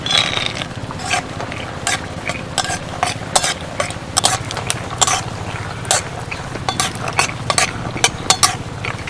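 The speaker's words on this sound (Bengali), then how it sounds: "বাদামগুলো দেখুন বেশ কিছুক্ষণ নাড়াচাড়া করে ভালো করে ভেজে নিয়েছি" Raw peanuts stirred and fried in mustard oil in a wok, a steady close sizzle broken by repeated scraping and clattering of the spoon against the pan.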